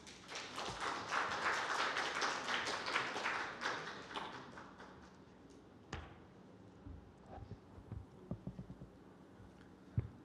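Audience applause at an education conference hall, a sustained burst of many hands clapping for about five seconds that fades into scattered taps and quiet room noise.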